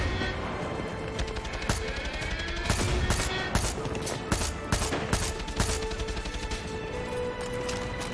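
A heavy turret in Far Cry 6 fires bursts of loud gunfire in uneven volleys, sharp cracks repeating over a noisy battlefield backdrop for several seconds.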